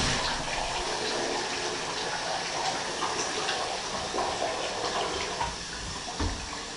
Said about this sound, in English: And then we have hot water. Shower's operational.